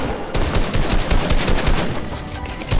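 Rapid automatic gunfire in the video game Fortnite Battle Royale crackles loudly and close, a fast string of sharp shots with a brief break near the middle before the firing resumes.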